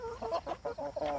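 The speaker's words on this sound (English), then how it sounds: "The roosters are getting active and fighting and trying to breed these hens." Pastured roosters and hens cluck in a quick run of short, close calls, active and breeding, with several distinct bursts and no talk.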